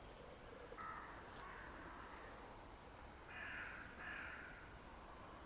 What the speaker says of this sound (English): All the birds are going now.